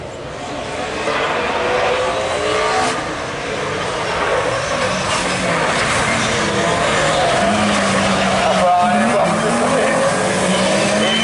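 Volkswagen Scirocco rallycross car racing at a French championship round, engine roaring at high revs and tyres squealing through a bend, loud and continuous, with a commentator talking over it.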